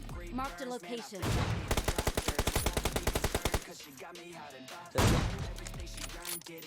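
Gunfire in a shooter video game: a fast, evenly spaced burst of automatic shots lasting about two seconds, then a single louder blast, mixed with game sounds and a voice talking around it.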